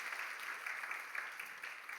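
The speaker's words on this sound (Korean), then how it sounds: "인사하고 들어갈 때 크게 박수해 주시기 바랍니다" A Sunday church congregation gives steady, faint applause from some distance for two seconds, with a soft, even patter of many hands.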